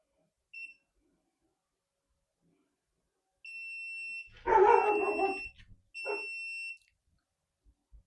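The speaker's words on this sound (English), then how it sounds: "Excuse my dog barking outside." A dog barks outside in two short bursts, somewhat distant and muffled, while a power station unit plugged into a wall outlet beeps with repeated high electronic alarm tones before and between the barks.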